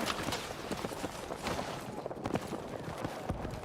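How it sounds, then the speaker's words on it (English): Rapid, steady footsteps thud in a Battlefield 6 match, a dense run of close, evenly spaced impacts over a busy game background with no talk. "I hear the footsteps. They must be above."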